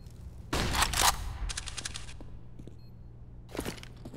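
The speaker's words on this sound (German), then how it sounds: "Gibt einen schönen Deagle Headshot" Desert Eagle shots in a competitive Counter-Strike match: a loud cracking burst of several rapid reports, then a quieter pair of shots a moment later, with small game clatter between.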